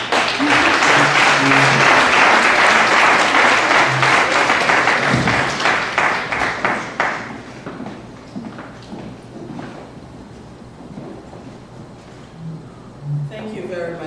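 Audience at a holiday party and appreciation evening breaking into loud, dense applause that stays strong for several seconds, then thins into scattered claps and fades, with a voice heard near the end.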